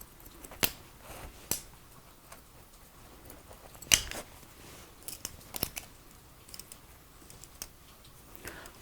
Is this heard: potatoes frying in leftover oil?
no